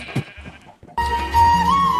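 A baby calf in Minecraft lets out a short, high bleating moo up close, following brief talk.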